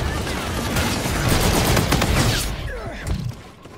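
Heavy gunner loadout blasting heavy weaponry in Call of Duty Infinite Warfare multiplayer on the Terminal map, a dense, loud sustained barrage of gunfire that tapers off near the end.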